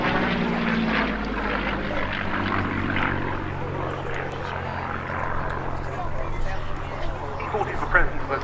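A Curtiss P-40F Warhawk fighter flies at the Duxford D-Day airshow, its propeller engine droning steadily and fairly loud over a broad rushing background, with a voice talking throughout.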